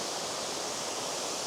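Tianna Falls waterfall roars as a dense, steady rush of falling water, loud and close, with no voices.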